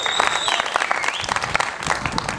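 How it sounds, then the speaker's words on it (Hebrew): An audience at the closing ceremony of a community running race claps loudly for the race organiser, a dense, continuous burst of applause with a few faint whistles. "עוד פעם, מחיאות כפיים"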